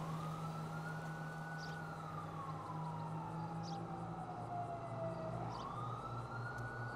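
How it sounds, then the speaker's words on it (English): Emergency sirens in GTA 5 wail in long rising and falling sweeps over a constant engine rumble, with brief honks breaking in now and then. "if you're hearing different sirens and horns, that's why"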